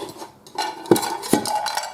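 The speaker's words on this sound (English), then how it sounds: "Pots and pans, yep, I still use those" Metal camping pots and pans from a motorcycle camping kitchen kit clatter and clank, with two sharp knocks standing out over a softer rattle of handling.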